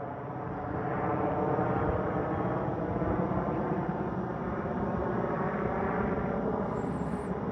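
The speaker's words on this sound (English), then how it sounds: "Got a helicopter flying over." A helicopter passing overhead outdoors, a constant low engine and rotor drone holding steady from start to finish, moderately distant and heard alone without talk.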